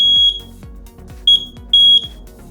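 A WiFi smart smoke alarm emits piercing high-pitched beeps in short clusters of two, loud and close, while a low rhythmic thumping runs underneath.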